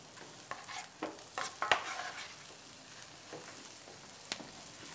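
Garlic stirred into rice cooking in a pan: soft, scattered scraping and tapping strokes over a faint sizzle, quiet and close, with one sharper clink near the middle and no voices.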